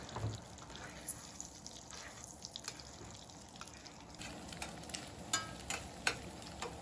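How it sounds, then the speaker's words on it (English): Eggs being scrambled in a pan at a rainy desert van camp, a soft steady sizzle with scraping stir strokes and light clicks of the utensil against the pan. "I'm going to destroy my beautiful 4 eggs and turn them into scrambled eggs"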